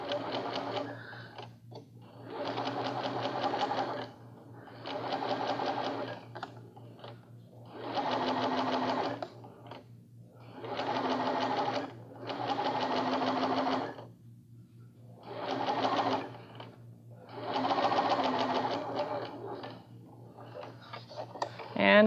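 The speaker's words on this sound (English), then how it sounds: "So I'm going to go ahead and stitch over the old stitch." A sewing machine stitches over a gathered ruffle seam in about eight short bursts of rapid, close mechanical clatter separated by brief pauses, with a faint hum running beneath.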